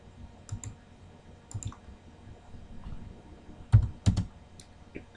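Keys on a computer keyboard are tapped in scattered clusters of sharp clicks separated by short pauses, close and fairly crisp in a quiet room.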